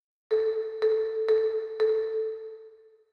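Four bright, ringing tonal hits in a steady rhythm, each tail blooming into a wide, lingering true-stereo reverb wash that slowly fades out.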